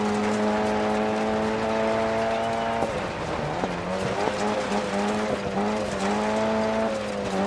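A rally car in Dirt Rally runs on a snowy Swedish stage: a steady engine drone drops as the throttle eases off, then climbs again amid tire and surface noise. It is loud and continuous, with no talk.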